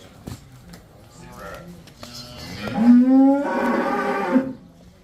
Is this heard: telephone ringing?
no